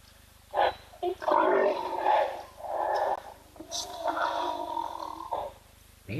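Rhinos at a waterhole give deep grunts, snorts and rumbling growls in repeated bursts, fairly close, with quiet gaps between the calls.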